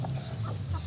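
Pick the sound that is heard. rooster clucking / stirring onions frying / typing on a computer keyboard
rooster clucking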